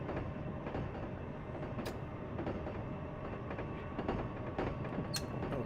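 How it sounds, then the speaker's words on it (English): A passing train in Train Simulator Classic near West Haven, a steady dense rumble of wheels and rail noise with faint clicks, loud and continuous throughout. "This sounds like a really cool train going past."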